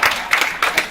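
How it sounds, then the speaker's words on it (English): Audience at a talk gives a short burst of applause, a few loud, rough clap surges close together with no voices. "Round of applause."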